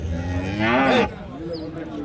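A cow at a cattle market for Jersey and HF cross breeds lets out one loud, close moo lasting about half a second, set against faint market background noise.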